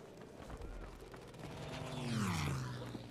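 Airplane engine in the Battlefield V video game, a steady droning roar that swells and sweeps down in pitch midway, moderately loud within the game's background noise.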